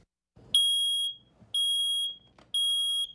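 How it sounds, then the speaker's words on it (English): A smoke alarm in a Fargo apartment gives three loud, shrill electronic beeps, each about half a second long and evenly spaced one second apart, with faint rustling between them. "Faulty fire alarms are one of the more common problems Fargo inspectors see."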